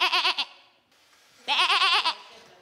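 A person imitates a sheep's bleat with two loud, wavering vocal 'baa' calls separated by a short pause, the second longer, alone and close up.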